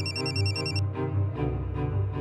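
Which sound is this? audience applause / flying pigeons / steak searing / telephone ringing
telephone ringing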